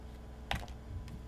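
Computer keyboard typing at a desk, a few quick soft key clicks with one sharper tap, close and quiet, with no talk.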